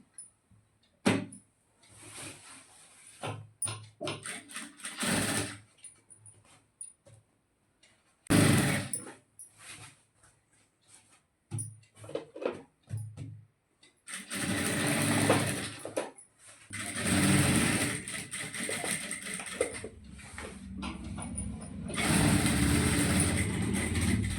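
A domestic sewing machine stitches a saree fall with long basting stitches, running in intermittent bursts of mechanical whirring separated by pauses, close and moderately loud.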